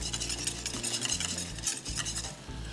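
A spoon stirs butterscotch chips into a hot bubbling pudding mixture in a pot, a brief, close stretch of soft scraping and gentle sizzling.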